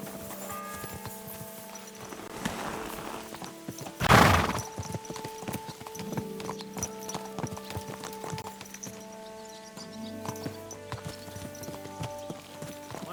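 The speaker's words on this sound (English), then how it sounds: "So mount up and we'll ride out." Horses clip-clopping on a ride out in Kingdom Come: Deliverance II, steady hoofbeats throughout with a loud snort or whinny early on, layered under game music and ambient sound.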